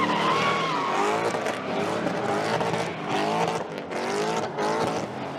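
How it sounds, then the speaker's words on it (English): Cars do donuts in a street intersection, their tires squealing in long wavering screeches over revving engines, loud and continuous with brief dips between slides. "a bunch of kids and young adults doing donuts in the middle of intersections while blocking off traffic"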